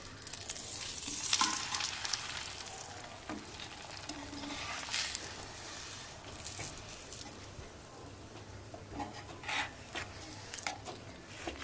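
Lachha paratha sizzles in ghee on a pan, a soft crackling fry with scattered scrapes and taps as it is turned, close but fairly quiet, no one speaking.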